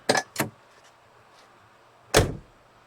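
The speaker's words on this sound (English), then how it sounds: "Listen how that thing shuts." A 1980 Chevrolet Camaro Z28 car door thumps shut twice in quick succession, then after a pause slams once more with a solid, close thud.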